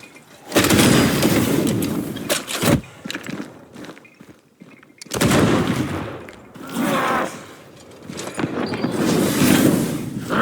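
Gunfire from a corpse enemy in the video game Banishers: Ghosts of New Eden, loud dense bursts of rapid shots in two main volleys with a brief lull between and scattered cracks, no voices over it.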